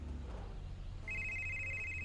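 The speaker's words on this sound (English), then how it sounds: "Oh, there's the phone call." A phone rings in the racing game Test Drive Unlimited 2, a steady electronic ringtone tone starting about halfway through over low engine rumble and game ambience.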